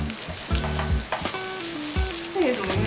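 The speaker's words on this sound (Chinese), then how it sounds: "所以现在就是让它过油，对，炒一下，把它拌炒均匀。" Green peppers stir-fried in hot oil in a pan, a steady close sizzle broken by repeated scraping and tossing strokes of a spatula, with no talk.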